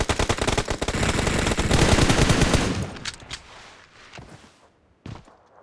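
An M4 rifle fires in rapid automatic bursts in a BGMI team deathmatch. Loud, close shots pour out for about three seconds, then a few scattered single shots and one last burst follow. No one speaks.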